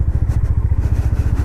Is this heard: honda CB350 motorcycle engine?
yes